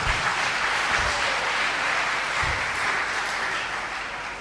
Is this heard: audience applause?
yes